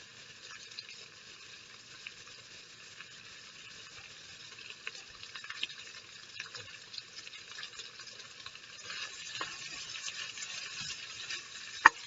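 Steady, soft sizzling of onions frying in a pan, a continuous crackle that grows a little louder toward the end, with a sharp tick near the close.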